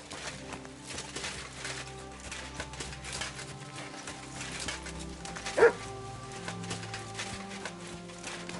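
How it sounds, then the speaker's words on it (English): A dog barks in the Kingdom Come: Deliverance 2 video game, with repeated yips and woofs from a short distance over soft game ambience and a faint musical bed. "Barking."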